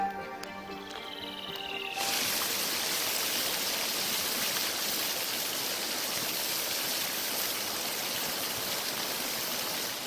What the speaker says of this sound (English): The fast-flowing streams that tumble from the volcanic hills are home to brown dippers.